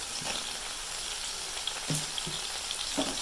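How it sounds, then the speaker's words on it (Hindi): Turmeric, garam masala, dried coriander and salt fry in a pan, a steady close hiss of sizzling oil with a few soft scrapes and clicks of stirring over it, no talking. "1 से 2 मिनट के लिए इसको फ्राई कर लिया है।"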